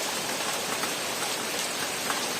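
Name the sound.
heavy rain falling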